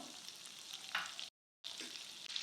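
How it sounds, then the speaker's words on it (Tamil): Two tablespoons of butter sizzle and crackle softly as they melt in a hot pan for butter chicken gravy, a steady frying hiss broken by a short moment of silence. "ரெண்டு டேபிள் ஸ்பூன் வெண்ணெய் சேர்த்துக்கிறேன் வெண்ணெய் உருகட்டும்"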